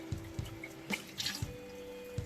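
A little water poured into an emptied tomato tin to rinse it, a quiet trickle and splash with a few soft metallic knocks and drips, close and faint, no voices.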